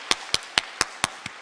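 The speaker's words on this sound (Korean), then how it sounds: "하나님께 영광의 박수 드리겠습니다." A church congregation at a Korean autumn special dawn revival service claps in unison, six sharp, evenly spaced claps about a quarter second apart, crisp and close with quiet gaps between.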